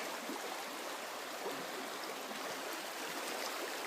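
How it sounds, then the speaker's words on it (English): The South Mills River flows steadily, a continuous close rushing hiss of moving water with no voices. "There's the South Mills River."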